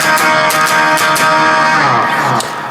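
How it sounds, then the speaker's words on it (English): Loud strummed electric guitar power chords form the chorus riff of a song, sustained and dense with sharp pick attacks throughout, played alone. "Let's jump straight on over to the chorus riff that looks and sounds like this."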